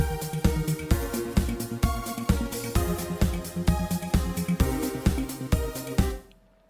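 Percussion and drum playback of a song arrangement produced in Reason, a steady loud beat with regular punchy hits and layered tonal parts over several bars, ending abruptly with no voices.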